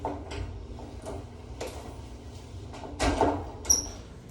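The metal door of a dog kennel at a veterinary facility is moved and latched shut, giving a string of soft clicks and knocks and a louder rattling clatter near the end, fairly close, with no talking.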